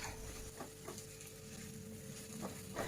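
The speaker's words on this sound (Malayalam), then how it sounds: "ഇനി ഇതിലേക്ക് ഞാൻ കുറച്ച് മല്ലിയിലയും കൂടെ ചേർത്തിട്ട് നന്നായിട്ടൊന്ന് മിക്സ് ചെയ്ത് കൊടുക്കുന്നുണ്ട്" Tomato masala with coriander leaves being stirred in a pan for a stuffed fish dish, giving a steady soft sizzle with a few scraping strokes of the spoon.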